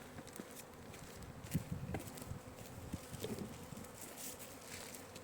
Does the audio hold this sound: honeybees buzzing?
yes